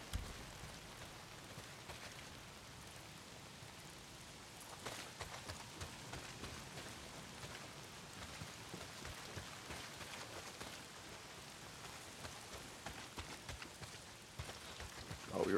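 Steady rain pours down in a Days Gone scene, a constant soft hiss of drops on surfaces at low level, unbroken and without voices.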